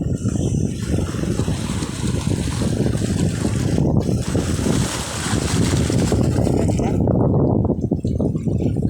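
Sea surf crashes against rocks at Joroan, Tiwi, Albay, in a constant loud roar, with heavy wind buffeting the microphone throughout.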